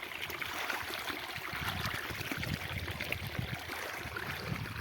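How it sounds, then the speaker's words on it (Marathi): Borewell water gushes out of a pipeline onto a farm field with onion and wheat crops, a steady, unbroken rushing and trickling flow that carries on for about five seconds with no voices. "बोरचं पाणी बघा आमची एक बोर आहे"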